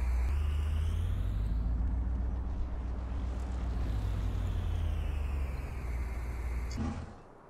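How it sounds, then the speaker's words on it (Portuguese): Truck engine running in Farming Simulator 19 while hauling a horse trailer on a large farm. A loud, steady low rumble with a broad hiss holds for about seven seconds and then cuts off abruptly. No one talks. "Ligar o motor."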